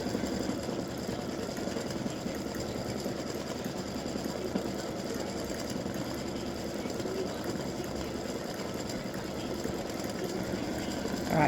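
An embroidery machine stitches a free-standing lace design, a steady fast mechanical whirr and rapid needle chatter running continuously and loudly throughout, close up with no voices.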